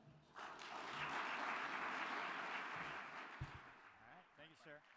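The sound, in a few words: audience applause welcoming a speaker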